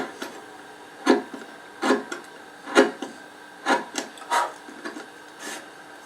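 A gouge carves around a design in an oak chest, giving a series of short, crisp wooden scraping cuts, about eight strokes at irregular intervals, close and fairly quiet, with no voices.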